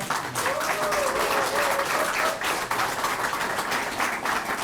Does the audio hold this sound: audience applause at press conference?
yes